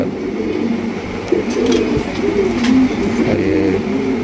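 Racing pigeons coo steadily in a loft, a low throaty warbling that runs continuously and fairly loud, with faint higher chirps and background rumble and no speech.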